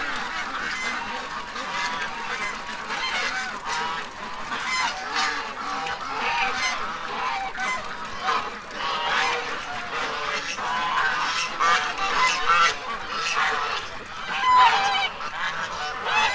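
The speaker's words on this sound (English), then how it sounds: "the geese need to be separated from the ducks" A crowded flock of geese and ducks at close range: dense, continuous goose honking with duck quacking mixed in, many overlapping calls throughout.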